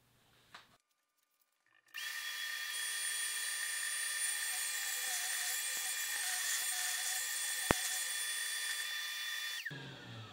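A woodworking router rounds over the edge of a workpiece for workbench feet, starting up with a high steady whine that holds loud and even for several seconds before stopping abruptly.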